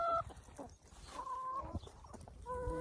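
Hens clucking and calling close by while being fed, several short bright squawks and warbling clucks overlapping in a busy backyard flock.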